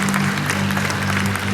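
A church congregation claps during a Spanish-language worship service, a dense, close clatter of hands heard over a steady low hum from the sound system.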